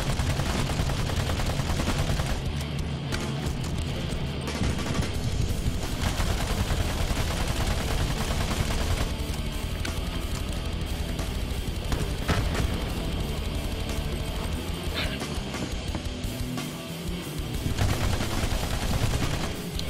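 Sustained rapid gunfire against a mini-boss in the Battleborn video game, loud and nearly continuous, with bursts of shots and occasional booms layered throughout.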